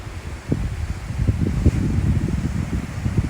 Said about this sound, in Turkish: Birazcık bayağı rüzgar var.